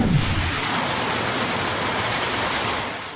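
Heavy rain in Zamboanga City, Philippines, a dense steady broadband hiss pouring down without pause, loud and close, with no voices.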